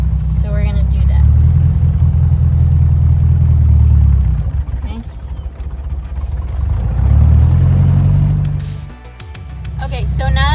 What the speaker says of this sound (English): you release the clutch slowly until it can go no more